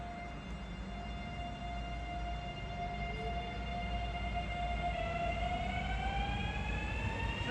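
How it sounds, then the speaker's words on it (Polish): A passenger train pulls away with rising, drawn-out whining tones over a steady low rumble, sustained and moderately distant. "Odjeżdża pociąg osobowy"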